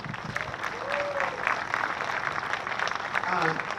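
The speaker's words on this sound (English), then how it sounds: "If you give yourselves a round of applause" A round of applause from members of the LA STEM Collective at a program event, steady dense clapping throughout with a few faint voices and whoops rising near the end.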